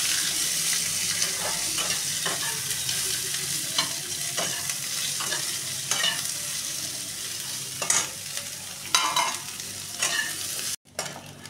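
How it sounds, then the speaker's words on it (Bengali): Cumin seeds and chopped onion fry in a pan with a steady, loud sizzle, broken by repeated scraping and stirring strokes, and no voices. "ভালো করে লাল লাল করে পেঁয়াজটা ভেজে নেবো।"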